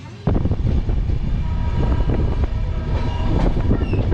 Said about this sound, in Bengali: এখন আবার আস্তে আস্তে ট্রেন এগোচ্ছে